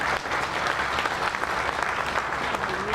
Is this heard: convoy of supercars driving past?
no